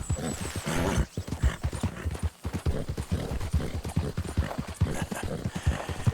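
Horse hooves in Red Dead Redemption 2 clop in a brisk, steady rhythm throughout, close and clear, with a brief whinny early on and no talk.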